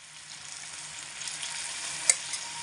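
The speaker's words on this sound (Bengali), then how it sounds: "এবার আমি এর মধ্যে দিয়ে দেব পরিমাণ মতো জল" Water pours into a hot pan of cooking drumsticks, potato and pumpkin, raising a hissing sizzle that swells gradually, with a small clink near the end.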